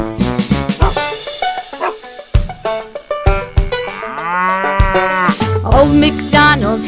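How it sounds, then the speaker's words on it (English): A cow moos within a sung Old MacDonald nursery rhyme, its low drawn-out call heard among bright, bouncy music and singing. "And on his farm he had a cow, E-I-E-I-O."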